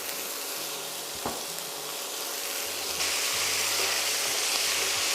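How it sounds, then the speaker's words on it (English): Fatty bacon fries directly in a dry pan, hissing and crackling in a continuous bright sizzle that grows a little louder partway through, with a faint low clink. "you just fry directly your bacon"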